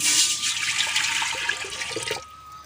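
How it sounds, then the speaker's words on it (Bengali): Tap water running and splashing onto homemade Bengali chinikon rice in a bowl for washing, a steady close rushing pour that stops near the end. "চালটা আমি ধুয়ে নেব চালে দিয়ে দেবো জল"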